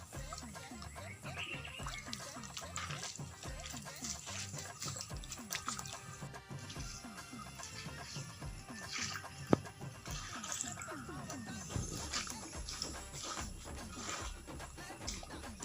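Well water overflowing in the rainy season, flowing steadily like a river, a continuous broadband rush of running water close by with a voice speaking over it throughout.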